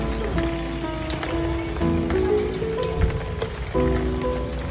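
Rain falls in the mountains at an outdoor restaurant and café, a steady close patter of drops on surfaces under a droning tonal hum, with no talking.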